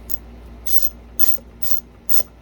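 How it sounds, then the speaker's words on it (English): A ratcheting screwdriver drives screws while assembling a Bissell PowerForce Helix vacuum, giving five quick bursts of close, crisp clicking in an uneven rhythm over a low background hum, without speech. "If you have a ratcheting screwdriver, it actually helps quite a bit."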